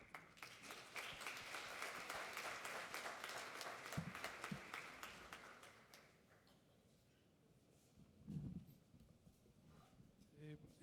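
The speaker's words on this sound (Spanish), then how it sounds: "Damos un aplauso." An audience applauds with dense clapping for several seconds, which fades out, followed by a few quieter sounds and low voices.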